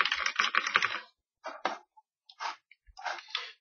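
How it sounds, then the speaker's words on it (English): Someone types a song title on a computer keyboard: a quick burst of close, crisp key clicks, then a few short scattered clusters of taps separated by pauses, fairly quiet with no talking. "we're going to type in"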